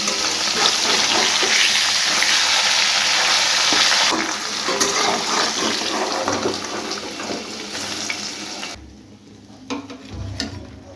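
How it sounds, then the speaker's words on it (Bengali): Parshe fish frying in mustard oil in a kadai, a loud steady sizzle with stirring that drops away partway, leaving quieter clatter and faint thuds near the end. "কড়াইতে দিয়ে দেবো সর্ষের তেল একটু লবণ দিয়ে দেবো তেলের পরে যাতে মাছগুলো লেগে না যায় মাছ দিয়ে দেবো"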